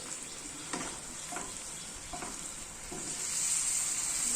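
Ripe mango pickle simmering in a pan gets a few gentle stirs, soft scrapes spaced about a second apart over a steady low sizzle that swells slightly toward the end.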